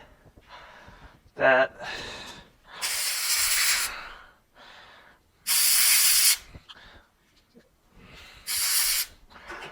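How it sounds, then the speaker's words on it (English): Compressed air blasts through the filter of a Bissell Spotbot 33N8 carpet cleaner in three loud, separate hissing bursts, with quieter breathy noises between them. "A little bit of compressed air."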